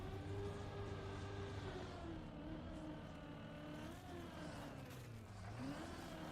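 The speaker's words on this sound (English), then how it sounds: "the audio cue in second gear there, the engine's RPM just goes way down" A race car engine in second gear in a racing video game, a steady droning whine whose pitch sags and then dips sharply as the RPM falls away, heard alone at a low level with no talk over it.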